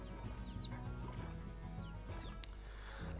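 Soft clucking of chickens in Slime Rancher, a few faint, scattered clucks and chirps over a steady low background hum, quiet and somewhat distant.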